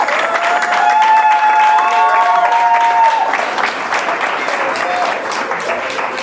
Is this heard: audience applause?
yes